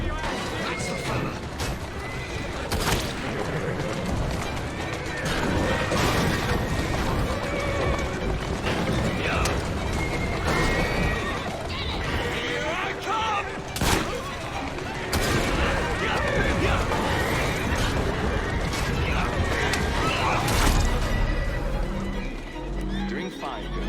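Horses neigh and whinny repeatedly while hooves clip-clop beneath a horse-drawn carriage in Assassin's Creed Syndicate, with gunfire cracks and character voices mixed in over the busy street scene.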